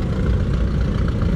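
A Case tractor engine idles at a steam and antique machinery show, with the tractor set up backwards and a shovel mounted on the back. The low, steady, rumbling drone is close and continuous, with no talk.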